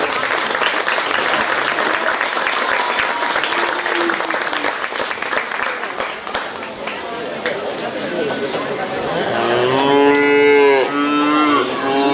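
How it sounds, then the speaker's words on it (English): A crowd at a 2023 county fair 4-H bottle calf show applauds the exhibitors in a steady wash of clapping, mixed with voices and a calf mooing loudly several times near the end. "let's give them all a round of applause"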